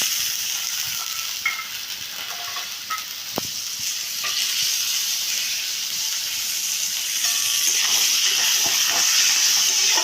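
Boiled chickpeas fry with spices in a pan for a prawn and banana-flower curry, giving a steady close sizzle and hiss with occasional stirring scrapes that grows slightly louder toward the end.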